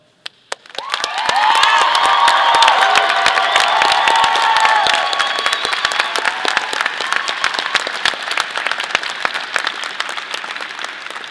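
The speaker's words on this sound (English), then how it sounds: "now through your applause down here and your cheering and raising the Moby roof" A graduation ceremony audience in a large arena bursts into sustained applause and cheering. The dense clapping swells quickly, holds loud for several seconds, then thins to scattered claps.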